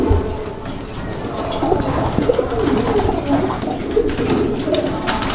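Pigeons at a wholesale pigeon market coo steadily, a dense layered cooing from many birds close by, with faint background clatter and no clear talk.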